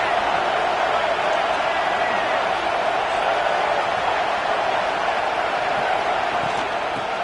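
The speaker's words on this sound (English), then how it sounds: "This crowd even louder now on second down as they try to hold on." Roaring football stadium crowd at an Ole Miss game, cheering loudly and steadily as the defense tries to hold on second down, a dense wall of sound that never lets up.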